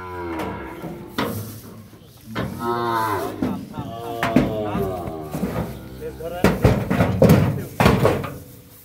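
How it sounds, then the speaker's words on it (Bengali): Sahiwal cattle moo loudly at close range, with drawn-out bellows rising and falling among nearby people's voices and a few dull knocks. "এটা ষাঁড় গরু।"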